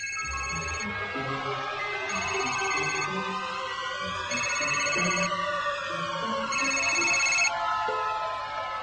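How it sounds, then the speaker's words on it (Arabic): A telephone rings steadily in repeated electronic bursts, loud and close, with music playing underneath and no voices. "جرس."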